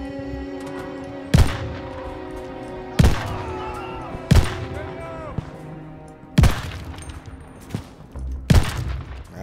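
Sharp, booming gunshots in Call of Duty: Vanguard fire at irregular intervals, about six loud blasts over a continuous background hum with a voice speaking.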